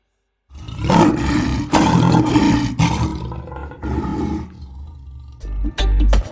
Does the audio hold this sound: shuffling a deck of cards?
no